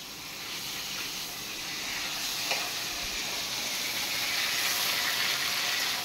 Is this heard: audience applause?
no